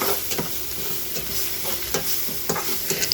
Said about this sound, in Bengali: দিয়ে সুন্দর মতো কষিয়ে নিলাম 2 থেকে 3 মিনিট